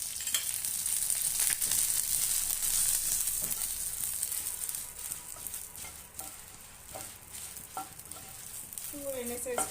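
Dry red chilies fry in a little oil with a continuous bright sizzle and occasional stirring scrapes, steady and close, with brief voices near the end.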